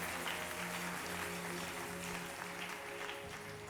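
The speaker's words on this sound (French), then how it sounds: "Est-ce qu'on peut acclamer le Seigneur?" A church congregation claps and acclaims the Lord in dense, sustained applause that holds steady throughout.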